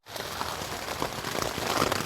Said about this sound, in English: It's around midnight and the rain is just pouring.